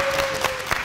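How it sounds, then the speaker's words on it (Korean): A small group applauds after a game in a Chuseok special, a brief burst of clapping with a few sharp claps standing out and a steady tone running underneath. "박수!"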